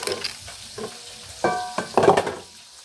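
Dried tilapia fries in irregular bursts of frying and clattering, hissing surges in the second half, with kitchen noise in between; no talking.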